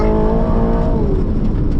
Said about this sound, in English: there's no fake stuff coming through the speakers that I can tell. It's all engine noise